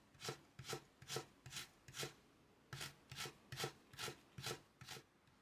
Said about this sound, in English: Arrange the slices of the carrot like this, then chop it